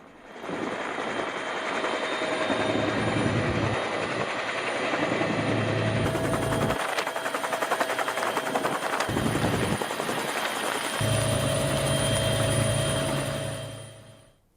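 A rescue helicopter flies over flood-hit Sri Lanka, its rotor and engine making a loud, steady thumping drone that holds nearly the whole time, with the pitch and texture shifting slightly as it passes.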